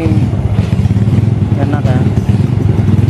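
A Yamaha Vega ZR motorcycle with a 135cc bore-up engine runs close by, a loud, steady low throb with a faint rise in pitch partway, while someone talks over it.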